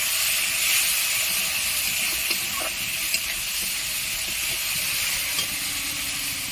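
Kashmiri chili powder, turmeric and cumin are stirred in a hot pan for restaurant-style soya chili. A steady, close sizzling hiss runs throughout with faint scrapes now and then and no voices.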